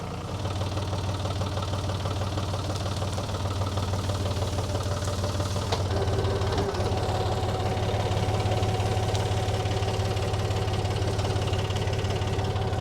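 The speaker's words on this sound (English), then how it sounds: "I'm gonna see if I can come down this way with the tractor and grab those couple of stumps out of there." A tractor engine runs steadily nearby, a continuous low knocking chug with a faint mechanical whine joining partway through, no voices over it.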